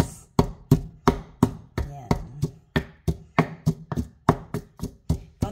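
Garlic being pounded in a mortar, an almirez, with a steady run of about twenty close, sharp thuds at a brisk, even rhythm, each with a short ringing decay.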